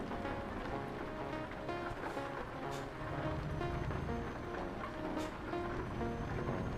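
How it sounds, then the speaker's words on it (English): Rain falls steadily in GTA roleplay, a continuous dense patter with no talk over it, while faint tonal background sounds run underneath. "It's raining."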